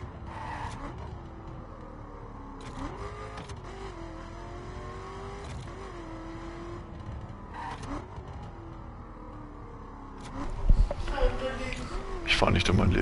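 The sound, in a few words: car engine revving in the video game The Crew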